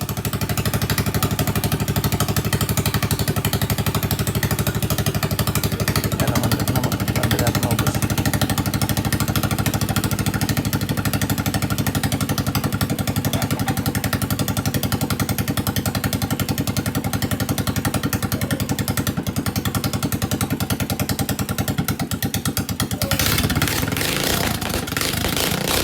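A motorcycle engine fitted with a 30mm carburetor runs steadily and loudly at a constant idle for most of the stretch, with a slight change in tone near the end, and no voices over it.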